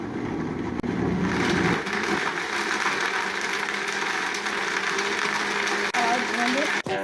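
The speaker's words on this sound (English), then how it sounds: "place those in your high-speed blender and blend until smooth" High-speed blender blending lemons and water for homemade dishwasher detergent: a loud, coarse churning at first that smooths into a steady high whir for several seconds, with brief dips near the end.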